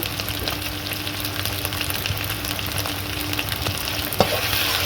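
Onions with ginger garlic paste and chilli powder sizzle and crackle steadily in a pan while being stirred, with one sharp clack near the end.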